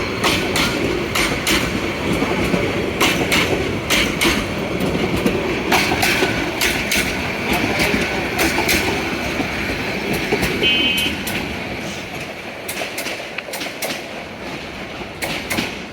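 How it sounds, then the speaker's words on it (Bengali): The Subarna Express between Dhaka and Chittagong runs at speed, with loud, steady rumble and rapid rhythmic clickety-clack of wheels on rail joints, easing slightly toward the end. "ট্রেনের নাম হচ্ছে সুবর্ণ এক্সপ্রেস। ট্রেনটি খুব গতিসম্পন্ন, ঢাকা তো চট্টগ্রাম হয়ে যাচ্ছে।"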